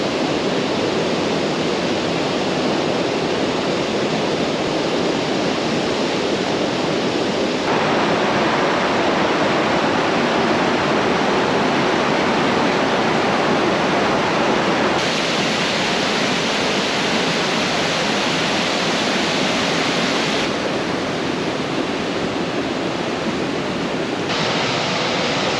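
Tallest waterfall in North America in California, heard as a loud, dense, unbroken roar of falling water that swells slightly midway, steady and close with no voices.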